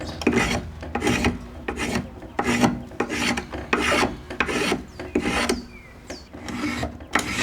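Wood being shaved for a tomahawk handle on a shaving horse with a drawknife, giving rhythmic rasping, grinding strokes roughly twice a second, close and clear with no talking.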